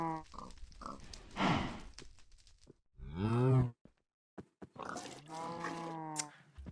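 Cows in the Minecraft video game moo in a few separate calls: a grunt, a long low moo, then another drawn-out moo after a short pause.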